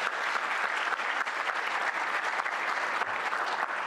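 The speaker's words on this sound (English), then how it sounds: "So a round of applause for them too." Steady, dense applause from a crowd, a continuous wash of clapping holding at an even level throughout with no talking.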